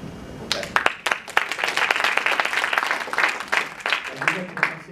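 An audience at a panel discussion breaks into applause, many hands clapping in a dense, sustained patter, with a voice briefly audible underneath near the end.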